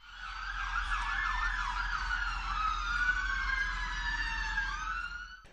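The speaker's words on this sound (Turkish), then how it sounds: "Bölgeye çok sayıda ambulans ve polis ekibi sevk edildi." Ambulance and police sirens wail steadily together at an emergency scene after an explosion, their rising and falling tones overlapping loudly and continuously with no voices.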